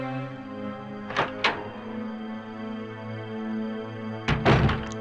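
In the Resident Evil beta, a door opens with two quick heavy thuds, and a third dull knock follows a few seconds later, all over a steady low droning game soundtrack.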